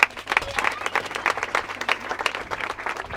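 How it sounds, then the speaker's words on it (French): Dense, lively applause from a crowd at a school ceremony in Makala fills the space, many overlapping claps forming a continuous rustling roar that stays loud from start to finish. "On applaudit."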